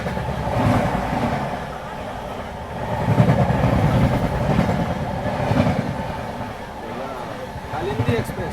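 The Kalindi Express passes in dense morning fog, a continuous rumbling roll of wheels and carriages with rhythmic rail clatter swelling and easing over several seconds, while people talk over it.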